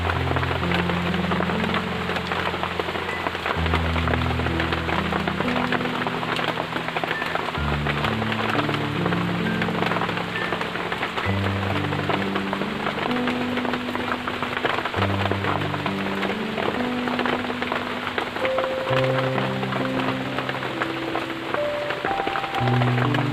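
Rain falls in a steady, dense hiss on outdoor surfaces, continuous and fairly loud throughout, with low musical tones playing underneath.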